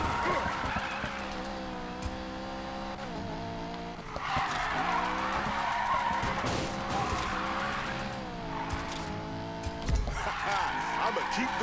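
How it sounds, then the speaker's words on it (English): Car drifting with squealing, skidding tires in the racing video game Need for Speed Payback, a steady engine roar with sustained tire screech running throughout, loud and continuous, with people talking over it. "Look at that, it's drifting"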